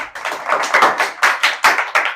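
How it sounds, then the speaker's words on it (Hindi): An audience claps loudly in a classroom lesson on triangles, a series of sharp, irregular rounds of hand claps rising and falling. "एक बार जोरदार ताली बजा दीजिए।"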